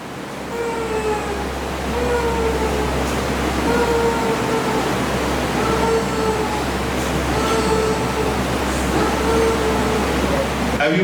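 A voice imitates the wheeze of asthmatic exhalation, producing a steady breathy hiss with faint whistling tones in repeated exhaled bursts, fairly loud over a low background hum.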